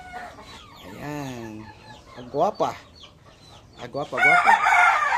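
Chicken vocalizing near a person in a Filipino backyard where straight-breed broodcock are kept, with a few short calls and clucks rising between and under close speech.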